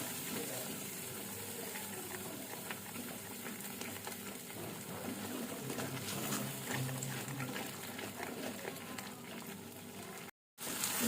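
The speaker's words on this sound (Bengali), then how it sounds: "এবার এতে আমি দিয়ে দিচ্ছি টক দই।" Spice masala for an Afghani egg curry cooks steadily in a pan after sour yogurt goes in, giving a continuous close sizzle and bubbling frying sound with faint stirring. It stays even throughout, with a brief drop out near the end.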